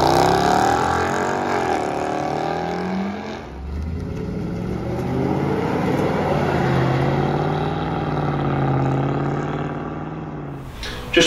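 Mercedes W204 C63 AMG V8 with an H-pipe and resonator delete, a loud, close exhaust that idles with a deep burble, then revs up and settles back down over several seconds.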